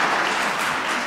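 Audience applause at a talk on Christian nationalism: a short, dense burst of many hands clapping, loud and steady, with no voices on top.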